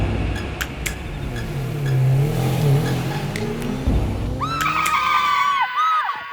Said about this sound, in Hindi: गोपी तुझे पक्का पता है कि वो डॉक्टर की गाड़ी इसी रास्ते से गुजरती है?